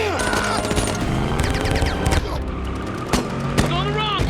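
A Transformers 3 battle in Chicago rages with repeated gunshots and booms, sharp cracks punctuating a dense mix of mechanical whirs and whines, with voices shouting amid the din.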